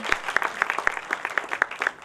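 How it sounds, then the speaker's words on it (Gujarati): An audience at a book talk event applauds, a brief burst of scattered, fairly light hand clapping heard up close for about two seconds. "એકવાર જોરદાર તાળીઓથી વધાવી લઈએ."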